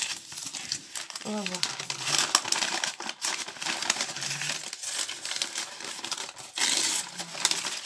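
Paper crinkles and rustles as a Christmas package holding stencils is opened, crisp handling noises that come and go in bursts while someone talks over them.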